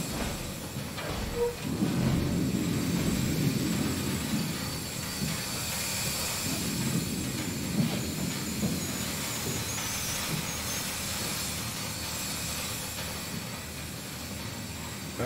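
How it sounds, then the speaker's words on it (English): Steam hisses from pipes in the sci-fi horror game SOMA as a loud, continuous broadband rush with a low rumbling layer underneath, steady for the whole stretch. "Steam hurts."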